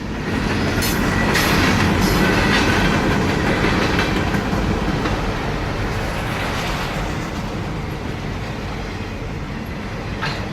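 A mixed freight train rolls steadily past Huntsville Depot, its heavy cars producing a loud, continuous rumble with rhythmic clickety-clack from the wheels and faint squeal, slowly easing in volume.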